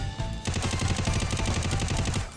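Rapid automatic gunfire from the Free Fire battle royale mobile game, a loud sustained burst of closely spaced shots lasting about two seconds, heard alone without talk.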